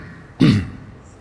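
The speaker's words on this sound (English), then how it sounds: "just clear my throat" A man outdoors near Cam Ranh, Vietnam, clears his throat once, a short, close, rough burst that fades quickly into quiet.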